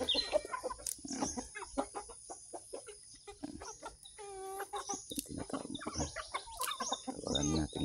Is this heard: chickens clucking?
yes